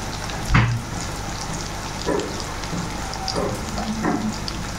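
Turmeric and Kashmiri chili powder fry in a pan, giving a steady close sizzle broken by a few stirring scrapes, with no voices.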